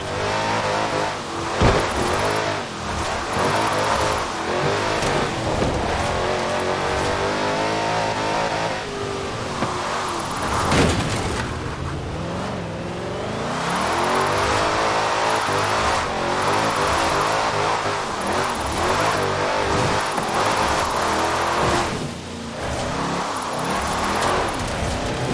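Car drifting in the video game Forza Horizon 4, with a continuous loud engine drone and revving, rising and falling through the turns for about twenty-five seconds and briefly dipping mid-way, with no talk over it.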